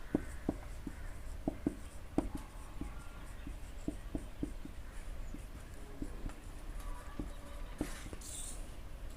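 Handwriting on paper as notes are taken in a lesson, a quiet, sparse series of short scratchy strokes and taps spread unevenly, with no one speaking.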